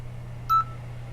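A single short electronic beep, like an alarm tone, sounds once in the survival game Stranded Deep. It is clear and moderately loud over a steady low hum.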